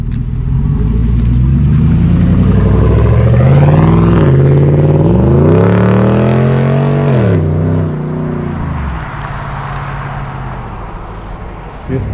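A strong car engine revs in a Brazilian workshop, rising and falling through several loud sustained pulls before settling into a rough idle, with people talking over it.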